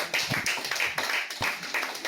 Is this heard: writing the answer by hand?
no